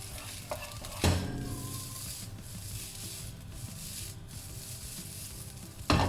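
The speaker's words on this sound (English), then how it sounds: "we are just using the back of the spoon or the spatula just to separate the rice grain" A spatula pressing and tossing fried rice grains in a hot pan, continuous gritty scraping and rubbing over a light sizzle, with sharper knocks against the pan at the start and end.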